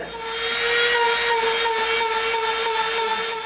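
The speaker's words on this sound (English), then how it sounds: "get our Dremel out, and hit it" A Dremel rotary tool with a rough bit grinds the textured surface off EVA foam, a steady high whine with sustained tones and slight fluctuations as it presses against the material, close and loud.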